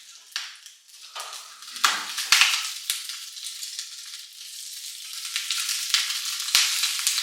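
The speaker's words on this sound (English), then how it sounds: "it's making popping sound because of fat" Meat fries in fat or tallow in a pan, giving a steady bright sizzle full of sharp pops and crackles. The sound is close and moderately loud, with occasional light scrapes of a utensil and no talking.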